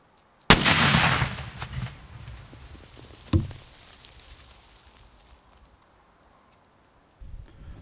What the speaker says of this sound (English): So we'll go ahead and put a charge next to it, blow it up